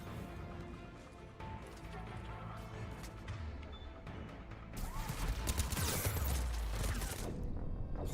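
Automated turrets in Mass Effect 3 fire in rapid, dense bursts that grow heavier and louder in the second half, with crashing impacts and battle noise layered throughout.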